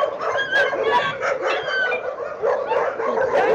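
Several dogs barking in an animal shelter enclosure, overlapping loud barks and yelps in a continuous noisy chorus, close by.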